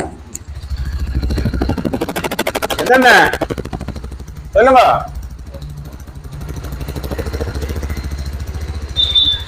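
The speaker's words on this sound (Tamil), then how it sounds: "இந்த பைக்கை ஸ்டார்ட் பண்ணி பார்ப்போம் எப்படி சவுண்டுன்னு சொல்லி" Petrol motorcycle engine idling with a steady rapid chugging pulse throughout, close and loud, while people talk over it.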